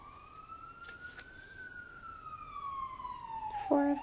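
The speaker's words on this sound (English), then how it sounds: "Do you hear in the background the ambulance, the horns?" Ambulance siren wailing in the distance behind street traffic, a steady high tone sliding slowly in pitch, with a brief car horn honk near the end.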